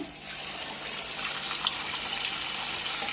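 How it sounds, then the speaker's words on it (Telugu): Pieces of fish for a Telangana-style fry sizzle and bubble in hot oil, a steady, dense crackling hiss that holds evenly throughout with no talking. "చూడండి అండి ఎలా వేస్తున్నాయో బబ్బుల్స్ లాగా భలే వస్తున్నాయండి"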